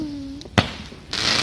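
Bonfire Night fireworks go off: a single sharp bang is followed moments later by a loud, sustained crackling hiss, with a faint tone fading beforehand.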